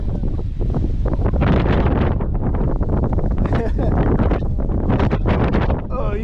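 Strong gusting wind roars and buffets the microphone outdoors on a spring fishing trip in Wisconsin, loud and continuous with fluttering bursts throughout.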